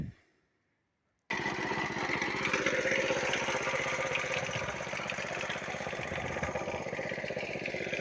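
Tractor engine starting to pull away to plough a field after a wheat harvest, a steady loud chugging diesel rumble that begins abruptly after a short silence and runs on continuously.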